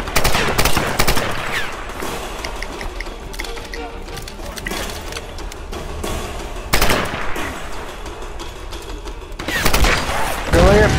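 Gunfire in the Tomb Raider video game: dense bursts of rapid automatic shots at the start, near 7 seconds and near 10 seconds, loud and close, with talking between the volleys.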